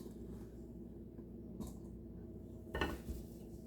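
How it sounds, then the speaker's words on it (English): A spoon stirs thick brownie batter of sugar and other ingredients in a bowl, giving faint, quiet clinks and scrapes against the bowl, with one sharper knock near the end over a low background hum. "So now I'm just gonna stir this up a little bit."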